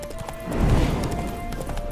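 Hooves of a horse in The Witcher 3: Wild Hunt clop steadily in a galloping rhythm, close and clear over an ambient game background.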